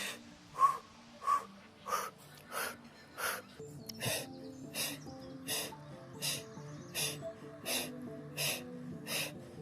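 Rhythmic breathing during a pilates exercise: about a dozen evenly spaced audible breaths, in and out, each a short airy puff roughly every three-quarters of a second, close and clear over faint background music.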